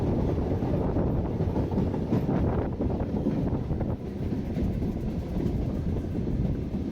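A Masagram to Bankura passenger train at the Brindabanpur stop gives a loud, steady rumble and rattle of rolling wagons, heavy wind buffeting the microphone throughout, with no voices.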